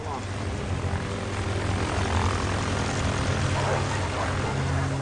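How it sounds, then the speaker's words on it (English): Steady droning engine roar of a propeller plane taking off, loud and continuous, with a faint voice or music mixed underneath. "With the hounds of hell in pursuit, the plane takes off to safety."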